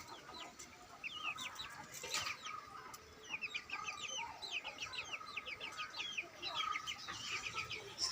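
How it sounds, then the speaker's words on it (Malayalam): Chickens cluck in a rural home courtyard recently cleaned with cow dung, giving repeated short, chattering calls in quick bursts over a low, quiet background. "പിന്നെ കോഴിമക്കളാട്ടോ."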